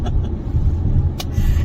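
Low road rumble fills a vehicle cabin cruising on a highway at about 75 mph, a steady close drone with a brief hiss of passing air partway through.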